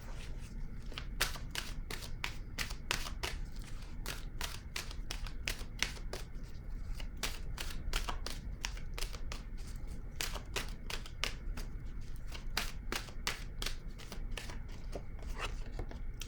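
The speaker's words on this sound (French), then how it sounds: "Je vais piger maintenant une carte de mon oracle" Oracle cards being shuffled by hand, a steady run of soft crisp riffling taps and slaps that continues for a long stretch, fairly quiet and close with no talking.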